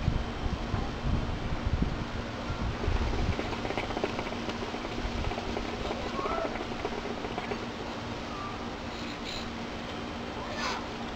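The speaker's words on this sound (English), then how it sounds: "it's a little bit windy out here" Steady outdoor wind buffets the microphone with low rumbling gusts during a hookah session, a constant rough noise throughout with faint rustling.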